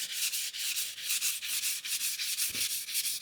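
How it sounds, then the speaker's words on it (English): A scouring cloth wipes back and forth over yellowed calcium scale coated with toothpaste and lemon, giving steady, close rhythmic rubbing strokes about every quarter second with no talk. "Then take a scouring cloth and gently wipe it back and forth."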